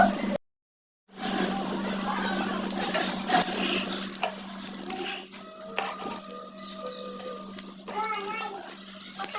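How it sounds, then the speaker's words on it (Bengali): Garlic fries in a pan for a Mymensingh chepa pitha dish, giving a steady, loud sizzle with scraping stirs and a few clinks after a brief silence near the start. "রসুন ভেজে নিচ্ছি"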